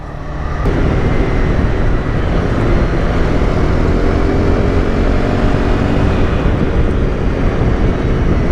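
A loud untuned police car engine roars up close and holds a steady, throaty rev for several seconds, with a heavy low rumble throughout.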